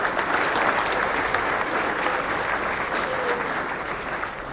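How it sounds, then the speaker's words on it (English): Steady, dense applause from a gathered crowd at a 1989 Casterton Western Border Football League medal count, a sustained wash of many hands clapping that fades slightly toward the end. "ladies and gentlemen, give them a warm round of applause"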